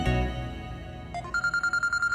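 A mobile phone dialing a call in a TV drama scene: a soft low thud, then a couple of tones lead into a quick, steady run of about nine evenly spaced electronic beeps, close and clear, with no talking.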